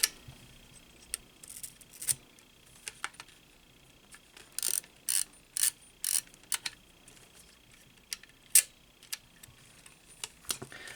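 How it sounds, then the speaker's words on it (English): Quiet mechanical clicks and ticks from the shutter release of a Zeiss Ikon Contessa camera, a few sharper snaps in a short cluster near the middle, with faint handling noise between them. "all you want to do is press the shutter release"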